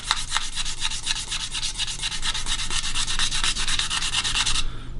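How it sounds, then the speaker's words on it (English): Sandpaper rubs rapidly back and forth across a quilted maple guitar top in an even rhythm of close, raspy strokes that stop abruptly near the end. "I just gotta sand out where some of the scratches are"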